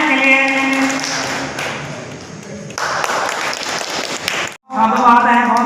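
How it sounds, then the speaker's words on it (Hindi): At an honouring ceremony for elders held by a Brahmin society, a crowd claps in a short burst of applause between stretches of someone speaking into a microphone. "जोरदार तालियां इनके लिए।"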